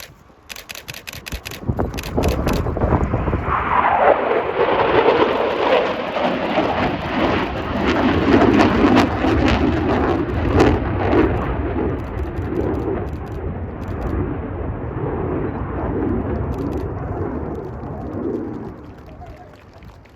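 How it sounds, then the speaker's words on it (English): Squadron Leader Nathan Scheuer of No. 29 Squadron flying a Eurofighter Typhoon FGR4 in an RAF air display on a windy day: a loud, sustained jet roar swells and sweeps past, then fades slowly over about twenty seconds. "the last chance to see Squadron Leader Nathan Scheuer from number 29 Squadron in the Eurofighter Typhoon FGR-4"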